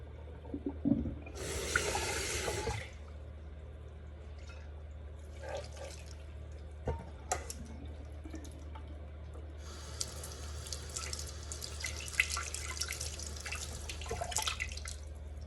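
Water pours and splashes into a sink in a few bursts, with quieter drips and clinks between, close by and without talk.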